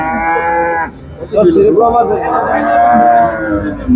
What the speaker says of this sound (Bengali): দুধের গাভি তারা দুধ দোয়ান করছে